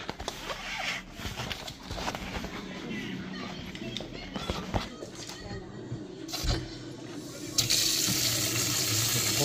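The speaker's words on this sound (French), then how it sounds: "plus qu'à lancer l'eau chaude" Hot water from a tap, turned on after a leak repair where the PER 12 pipe was re-run inside a 16 sleeve, rushes into a sink with clatter and handling noise, then swells to a louder steady stream near the end.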